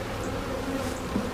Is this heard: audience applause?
no